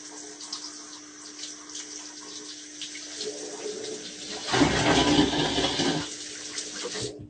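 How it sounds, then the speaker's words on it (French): Cold tap water rinses through a hookah hose, starting as a thin running trickle, then gushing louder in the middle before easing off, heard close over a steady background hum. "Maintenant qu'on l'a bien lavé à l'eau chaude, un petit coup d'eau froide"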